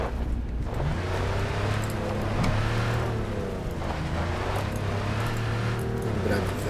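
A car in Cyberpunk 2077 driving over a rough, bumpy road, its engine droning steadily and loudly throughout with road rumble, while a person talks over it.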